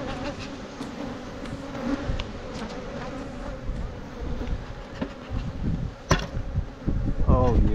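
Honey bees buzzing steadily in an open hive being smoked down during an inspection, a dense close drone with occasional knocks of handling frames and faint voices.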